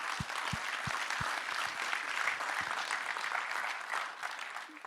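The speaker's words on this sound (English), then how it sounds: "a big round of applause for this new Laravel stuff" Conference audience applauding steadily throughout, a dense wash of clapping from a large crowd with no voices.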